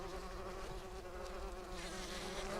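Bumblebee colony buzzing inside its box, a dense, continuous low drone of many wings, faint and steady throughout with no talk over it.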